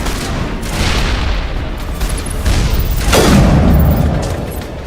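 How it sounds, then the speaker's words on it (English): A grenade blast in Mass Effect: a heavy, booming explosion rolling out amid scattered gunfire, loud and close, swelling toward the end before fading. "Toss a grenade. Get down!"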